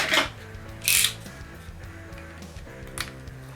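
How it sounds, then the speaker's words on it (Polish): Protective plastic film crackles as it is peeled off a Xiaomi Mijia Wiha 24-in-1 magnetic precision screwdriver set, in three short, close rustling bursts with quiet pauses between. "słuchajcie odfoliujemy w końcu, nareszcie."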